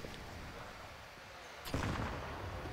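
A grenade goes off in a CS:GO match: a sharp, booming blast hits after a quiet stretch of faint game ambience, then decays into a rumbling tail.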